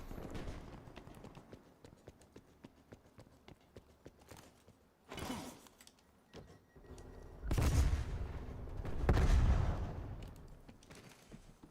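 Footsteps in the Black Ops Cold War video game, a rapid run of light, regular taps early on, then heavier thuds and bursts of game action.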